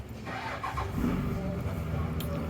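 A van pulling up nearby on a street, a steady low engine rumble with some traffic noise, voices faintly underneath.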